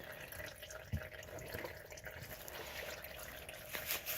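Motor oil drains from a Honda Civic's sump into a pan, a faint steady trickle and patter with occasional soft drips, quiet and close with no talking.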